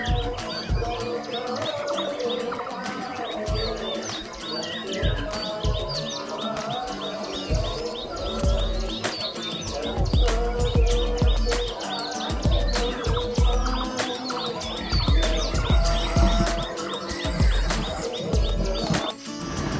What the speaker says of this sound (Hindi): पक्षियों की चहचहाहट